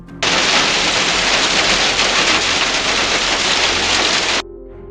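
A violent hailstorm pounds down in a dense, loud, continuous roar of hailstones striking surfaces, starting abruptly and cutting off after about four seconds, with no voices.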